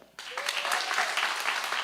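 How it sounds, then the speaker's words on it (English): A comedy show audience bursts into applause after a moment's hush, clapping and cheering densely and steadily to the end. "round of applause if you think it's a hotep."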